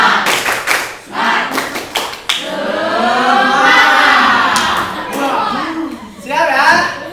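A group clapping together in a training session, a few sharp unison claps at the start, then a loud crowd cheering and shouting, with more claps and voices near the end.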